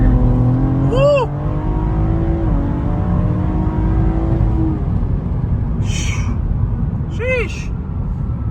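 A 600 wheel-horsepower Cadillac ATS-V tuned with a fuel cam, upgraded fuel system, downpipes and E85 launches hard from a dig, its loud engine climbing steadily in pitch over several seconds before easing off, with brief voices exclaiming over it.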